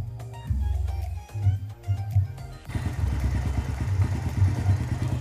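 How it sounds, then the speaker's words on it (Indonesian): Honda Supra motorcycle engine starting after cam chain tensioner work, with a rhythmic low thumping and clatter that settles into a steady idle after the start, close and alone. "saya akan mencoba motor dihidupkan"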